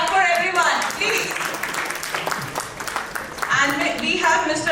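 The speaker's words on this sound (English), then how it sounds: "Now, so much clapping. Clap for everyone, please." An audience claps at a regional financial inclusion conference, a sustained patter of hands filling the room while a presenter talks over it.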